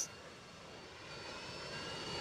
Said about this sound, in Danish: Det er min drone.